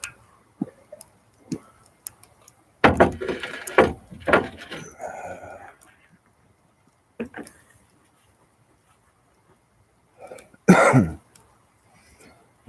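A few short, harsh coughs close by from a person with COVID, in brief bursts separated by quiet stretches, with faint scattered knocks between them.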